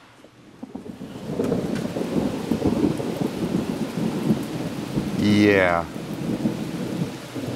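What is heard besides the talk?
thunderstorm with rain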